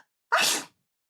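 A character in a mystery adventure video game lets out a single short, sharp sneeze, heard up close and alone with silence before and after.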